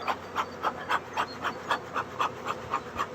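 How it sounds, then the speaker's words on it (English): A swarm of honey bees buzzes around close by during a swarm capture, a soft steady hum rising in regular pulsing swells about every third of a second. "I can hear all the bees flying in the air around me"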